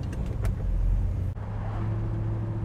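A 1969 Plymouth GTX muscle car rumbles along on a test drive, a steady low engine drone with road noise, briefly dipping before settling into a continuous cruising hum.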